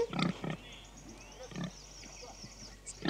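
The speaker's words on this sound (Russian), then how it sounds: "Ой, свинья." A pig grunts a few times in short, close bursts, with faint background noise and brief human vocal sounds between the grunts.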